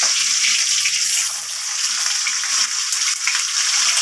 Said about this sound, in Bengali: আর একটা কড়াতে এটা ভেজে নিলাম